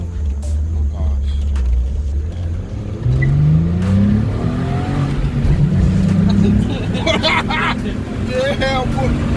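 Volkswagen GTI VR6 engine accelerating hard uphill in first gear, a loud rising roar that climbs in pitch twice, close by with people talking over it.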